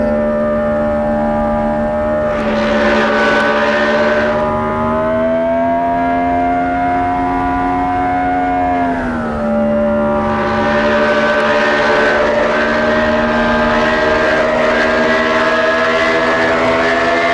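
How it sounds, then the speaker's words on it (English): A motorcycle engine revving hard while the clutch slips: a loud, sustained, high-pitched mechanical drone that holds steady, dips briefly in pitch midway, then climbs back up. "Slipping the clutch, that's what's happening."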